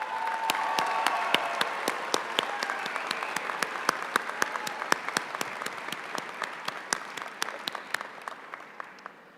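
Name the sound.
graduation audience applause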